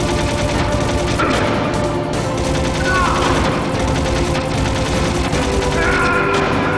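Gunfire in the video game Metal Gear Solid: loud, dense bursts of rapid shots and crashing impacts rattle on without pause over a busy game backdrop.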